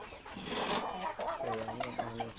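Native chickens cluck and murmur on a farm, several birds heard close and fairly loud for a couple of seconds, with overlapping calls and no speech.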